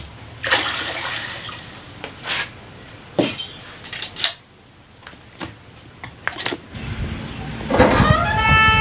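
Water poured from a small metal pot onto onion-leaf greens outdoors, heard as several short splashes and clinks, then a longer steady pour near the end.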